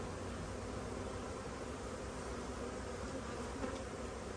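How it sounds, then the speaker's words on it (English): Dense honeybee buzzing from a colony inside a removed floor hive during a bee removal, a steady close drone with no breaks and no speech. "There's a lot of bees in here now."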